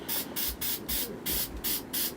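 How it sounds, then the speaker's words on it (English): Repeated bursts of spray paint can hissing, about six short blasts in steady rhythm, close and loud with brief pauses between. "Spraying on the table alone does it."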